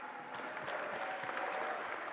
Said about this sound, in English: please, a big round of applause for all of the teams that have raced